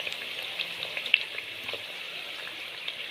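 Sweet dough rounds fry in oil in a pan over medium heat, giving a steady close sizzle with occasional small pops and crackles.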